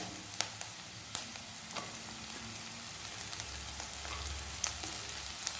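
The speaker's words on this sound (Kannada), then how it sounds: "ಇದನ್ನು ಫ್ರೈ ಮಾಡ್ಕೊಂಡು ಕೂಡಲೇ ಇದಕ್ಕೀಗ ನಾನು ಬೀನ್ಸನ್ನು ಹಾಕ್ಕೊಳ್ತಾ ಇದ್ದೇನೆ" Chopped beans fry in a hot pan for paneer fried rice, giving a steady close sizzle with scattered crackles and a few sharp clinks of stirring.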